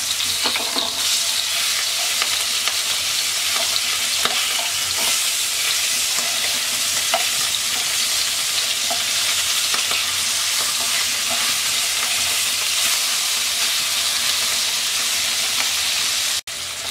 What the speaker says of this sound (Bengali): মাছটা 1 পিঠ ভাজা হয়ে গেছে, উল্টিয়ে দিচ্ছি।